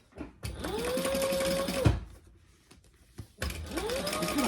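A sewing machine top stitching a beginner bag runs in two steady bursts, whirring and humming at a constant speed close up, with a short quiet pause and a few soft handling noises between the runs.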